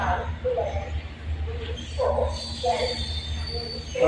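Rumble of a train rolling into a station with faint wheel squeals and screeching, under intermittent nearby voices.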